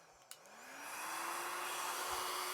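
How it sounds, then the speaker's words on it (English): A small blow dryer runs on a low, cool setting, starting after a faint click and rising into a steady, airy whir that holds evenly and fairly quietly with no talk. "This is a small blow dryer."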